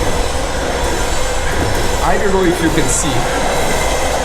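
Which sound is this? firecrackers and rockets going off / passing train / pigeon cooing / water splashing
passing train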